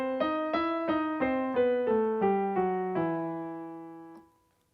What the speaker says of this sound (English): you can try playing it with your hands together at the same time